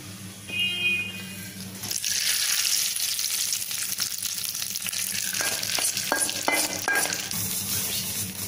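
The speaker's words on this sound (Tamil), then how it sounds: "கொஞ்சமாக கருவேப்பிலை தாளிச்சது வந்து இப்போ பருப்போடு சேர்த்துடலாம்." Curry leaves tempered in hot oil hit tomato dal with a sudden loud sizzle, then keep hissing steadily as the pot is stirred, with a few metallic clinks.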